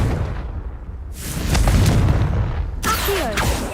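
A Confringo blasting spell from the Hogwarts Legacy video game, set in Feldcroft, goes off as two separate booming explosive bursts, each with a rumbling tail, the second sharper and followed by crackling debris.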